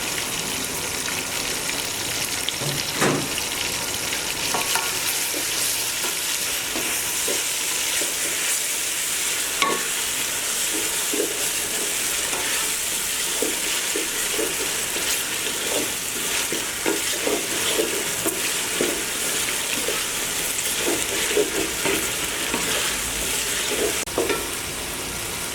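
Sliced green chilies hit a frying pan for chicken akhni polau, bringing a sustained sizzle broken by scattered clicks and stirring scrapes throughout.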